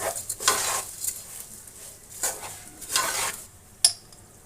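Bay leaves, cardamom pods and cinnamon pieces going into a pot for cauliflower biryani, heard as a few soft scraping and rattling stirs with a sharp metallic clink near the end, no talking.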